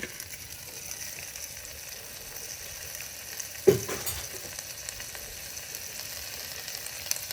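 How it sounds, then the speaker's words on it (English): Onions and red peppers sauté in hot oil in a pan, giving a soft, steady sizzle with one brief clatter partway through; nobody speaks. "Now I'm going to go ahead and saute the onions and the peppers"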